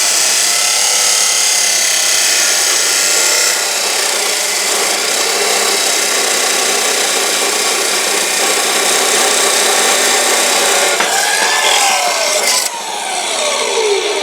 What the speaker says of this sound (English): So I need to cut 3 tubes 25 inches long